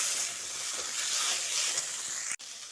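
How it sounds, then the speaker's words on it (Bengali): Chopped tomato frying with onion and garlic in a pan gives a steady, close, fairly loud sizzling hiss, broken by a brief dip near the end. "টমেটোটা দিয়ে পেঁয়াজের সঙ্গে ভেজে নিতে হবে।"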